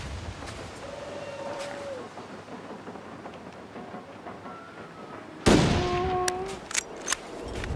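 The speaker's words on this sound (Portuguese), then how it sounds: "Acho que eu vou dar um tiro nele, galera." A sharp, loud gunshot in The Long Dark cracks out partway through, its reverberating tail ringing after it over a quiet background of game ambience and short tones.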